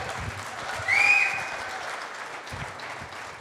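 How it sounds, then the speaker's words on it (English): Audience applause welcoming a speaker at a talk, a burst of clapping with a short sharp whistle cutting through early on, then the clapping tapers off and thins out. "Let's give a rowdy welcome and applause to Dr."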